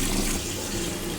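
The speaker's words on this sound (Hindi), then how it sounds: "जब हमने इसको फ्लश किया तो ब्लू कलर का फोमी वाटर जनरेट हुआ" Toilet flushing with a Harpic Flush Matic marine-fragrance cleaning block in the cistern, a brief steady rush of water heard up close.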